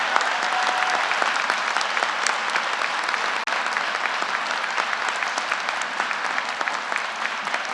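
Sustained applause from a graduation ceremony audience honoring standing veterans, a dense, steady clatter of many hands filling a large hall, even and unbroken throughout.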